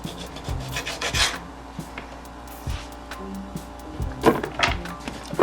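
A knife slices ginger or lemon for a detox tea on a cutting board, producing a few scattered, close, soft scraping cuts and thunks separated by pauses, with no speech.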